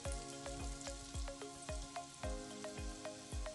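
Onion sautéing in hot oil with ginger for a Chinese-style fu yung hai gives a steady, close sizzle, broken by a regular series of sharp knocks about every half second, like a spatula striking the pan.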